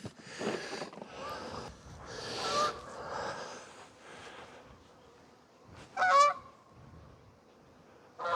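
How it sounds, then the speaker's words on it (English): Geese flying with the wind honk in scattered, uneven calls, with one sharp, louder honk partway through and fainter honks around it, heard outdoors over light background noise. "Those geese are making good time flying with the wind."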